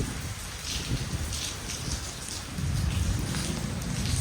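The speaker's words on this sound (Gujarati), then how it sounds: "વરસાદ ફૂલ ચાલુ હોય" Heavy rain pouring down during a downpour, a dense, loud and continuous hiss and patter on surfaces close by, with a deep rumble that swells toward the end.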